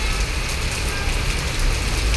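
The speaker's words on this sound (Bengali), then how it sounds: "কেবল বৃষ্টিটা নামলো অনেক জোরে পড়তেছে বৃষ্টিটি" Heavy rain pours at night near a stadium, a steady, loud, broadband wash of rainfall with faint traffic rumble beneath.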